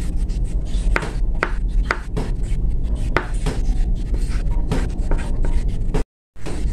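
A knife slices whole mushrooms thinly on a cutting board, giving a quick series of crisp, close chopping taps with a short gap near the end.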